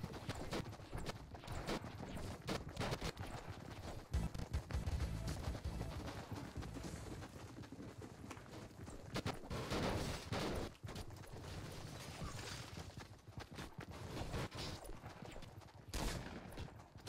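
Gunfire in Fortnite at Tilted Towers, a scattered stream of sharp shots and short bursts from mid-distance, irregular and continuous over a noisy background, with no talk.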